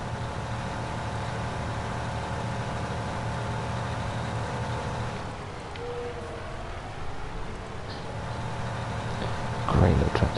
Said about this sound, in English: Great little tractor, this.